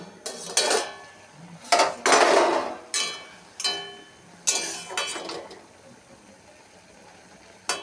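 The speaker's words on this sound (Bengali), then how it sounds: "ঢাকনাটা খুলে দিচ্ছি" A lid lifted off a cooking pot of simmering potato and okra curry with dal, followed by a string of loud, separate metallic clanks and clinks of pots and utensils, spaced irregularly with short quiet gaps between them.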